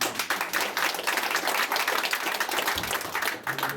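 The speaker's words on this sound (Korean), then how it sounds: "박수 한번 주시죠" Audience applause at a Korean political office-opening speech, a steady burst of clapping from a gathered crowd, moderately loud and continuous with no talking over it.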